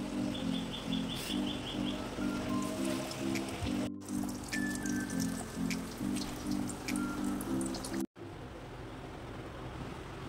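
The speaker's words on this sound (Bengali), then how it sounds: "এবারে চপগুলো একটা করে ছেঁকে নেব।" Potato chops dipped in gram-flour batter deep-frying in hot oil, a steady close bubbling sizzle that runs unbroken throughout with a faint repeating beep in the background.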